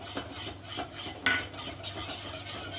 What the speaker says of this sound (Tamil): நல்லா இந்த மாதிரி விஸ்கை வச்சு பீட் பண்ணிக்கோங்க.